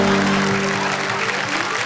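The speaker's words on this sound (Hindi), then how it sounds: "एक बार जरा तालियां" Audience applause at a Hindi poetry gathering (kavi sammelan), a dense steady clatter of clapping with a low mechanical hum beneath that fades slightly toward the end.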